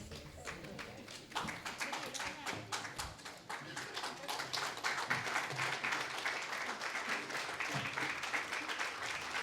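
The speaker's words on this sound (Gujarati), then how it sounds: "કૌમુદીબેન, હંસાબેન અને આ તમામ કલાકારોને આપણે સ્ટેન્ડિંગ ઓવેશન આપ્યા" A live audience gives a standing ovation to the performers at a Gujarati music concert, with dense, sustained clapping that swells after the first second and holds loud and steady, with a few voices mixed in.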